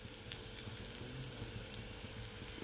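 Mustard-flower fritters (bora) frying in hot oil give a soft, steady crackling sizzle, close and fairly quiet, with a few faint scrapes and no talk.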